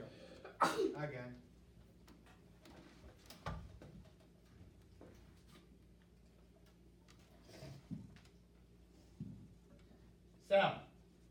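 In a sixth-grade math classroom, a person sneezes sharply a few times, scattered across a quiet stretch with a teacher talking faintly and soft ticking in the background.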